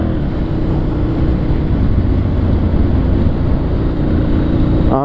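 Steady, loud engine drone and wind rush from a motorbike cruising through curves on a road in the Azores, continuous and close throughout with no talk.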